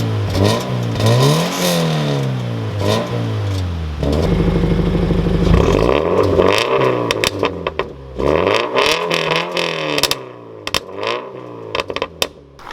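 A Scion FR-S with a Valvetronic exhaust revs repeatedly nearby, pitch climbing and dropping in several swells, with a loud steady drone in the middle and clicks and rattles around it.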